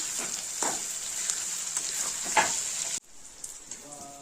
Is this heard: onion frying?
yes